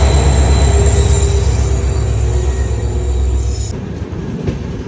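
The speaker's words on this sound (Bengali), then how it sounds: "অবশেষে হচ্ছে আমাদের ট্রেনটা ছাড়ছে" A train pulling away near Sevoke in hilly, forested country gives a loud, steady rumble of wheels and carriages with faint squeals, and the roar drops away after a few seconds. No one speaks.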